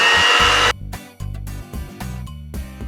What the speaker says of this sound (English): Then I want to whisk this up until it's nice,